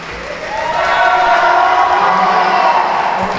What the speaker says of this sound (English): Roars from the crowd.